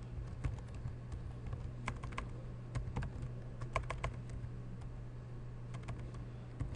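Light clicking of keys on a computer keyboard, an irregular run of quiet taps over a low steady hum, with no voice.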